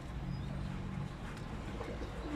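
Pigeons cooing in a home loft where newly bought birds are kept, a soft continuous low murmur of coos with faint chirps over steady background noise.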